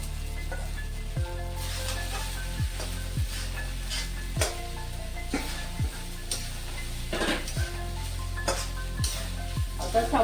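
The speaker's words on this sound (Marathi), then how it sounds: "मी आता साबुदाणा ऍड करते त्यामध्ये।" Sabudana and potato frying in ghee, a steady close sizzle with regular scraping strokes of a spoon stirring the pan at roughly one-second intervals.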